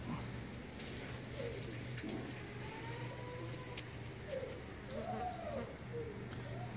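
Teddy pigeons of the Chaudhry Sakhi Sahab line cooing softly in a loft, a few low rolling coos over a steady hum and distant road traffic.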